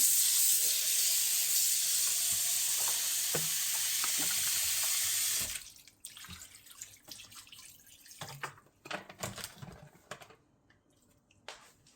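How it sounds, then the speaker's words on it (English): Goat meat is washed in a kitchen sink under a running tap, a steady loud water stream for about five seconds, then quieter splashing, dripping and handling sounds. "now I'm going to start washing"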